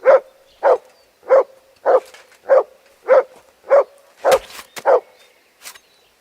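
A dog in Kingdom Come: Deliverance II barks about nine times in a steady, evenly spaced rhythm, clear and fairly close with quiet gaps between barks and a short sharp knock near the end.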